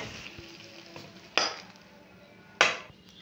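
A pan of rice with pointed gourd curry being stirred over the heat, a low frying hiss under two sharp scraping clanks of a spoon against the pan.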